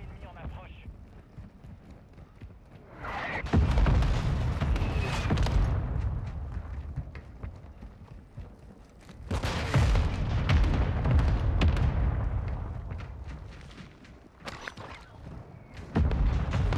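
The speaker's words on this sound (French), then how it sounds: "Frappe de mortier" Mortar strike explosions in Warzone 2 land as two heavy booming bursts several seconds apart, with a fainter third thump near the end, all under excited gamer talk.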